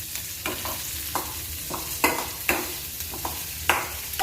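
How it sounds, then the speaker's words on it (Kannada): Onions dropped into hot oil along with garlic paste and green chili, frying with a soft continuous sizzle broken by repeated close stirring scrapes at an irregular rhythm. "ಆನಿಯನ್ ಹಾಕ್ತಿದ್ದೀನಿ,"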